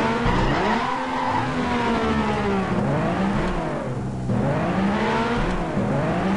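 A Ferrari Enzo engine roars continuously in Garry's Mod, rising and falling in pitch with gear changes, alongside tire skids, with the synthetic steadiness of a game.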